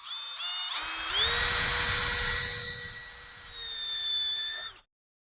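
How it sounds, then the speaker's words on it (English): A power drill drilling a hole in a 1963 Ford Galaxie spins up with a rising whine and runs steadily at high pitch for about four seconds before stopping abruptly. "I'm just going to drill a random hole here in the middle"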